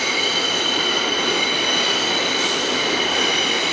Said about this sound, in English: I don't want the train to interrupt it.